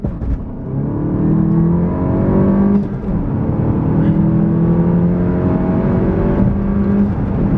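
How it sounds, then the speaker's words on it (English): A car's engine is floored at launch, its wheels spinning for grip: a loud, sustained roar with rising and falling revs runs through the whole stretch, briefly dipping near the middle. "floored it, just wheel spun, nothing."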